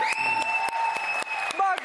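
A live studio audience claps throughout a Turkish daytime television show, with steady applause that has sharp individual claps in it, heard under a sustained tone and other studio sound.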